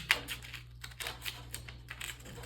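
Sharp snipping clicks repeat unevenly, close by, as small children's scissors struggle to cut while making wood arrows, with a steady low hum underneath.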